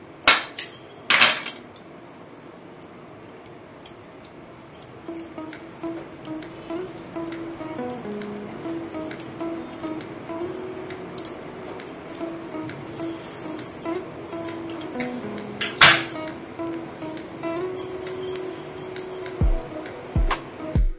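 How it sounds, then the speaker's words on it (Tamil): A knife chops ridge gourd into small pieces on a board, with scattered sharp taps and a few louder knocks over a low background hum, close and irregular rather than steadily rhythmic. "பப்பா இருந்ததுனால குட்டி குட்டியா கட் பண்றா"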